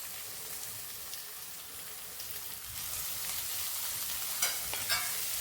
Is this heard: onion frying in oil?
yes